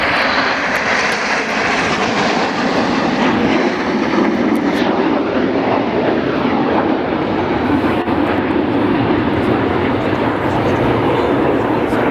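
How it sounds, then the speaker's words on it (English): Red Arrows jets flying the Whirlwind manoeuvre at an airshow at Leuchars, with a loud, continuous broadband engine roar that fills the whole stretch, steady and close, with no clear talk over it. "The pilots are widening out now as they fly the Whirlwind."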